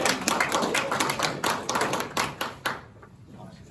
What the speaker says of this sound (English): Give Claire a big round of applause.